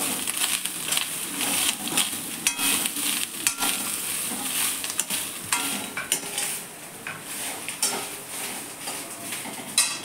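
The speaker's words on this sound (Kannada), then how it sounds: "ಕಾಯಿ ತುರಿನ ಚೆನ್ನಾಗಿ ಎಣ್ಣೆಯಲ್ಲಿ ಫ್ರೈ ಮಾಡ್ಕೋಬೇಕು" Grated coconut sizzles steadily in hot oil, with a utensil scraping and stirring against the pan now and then.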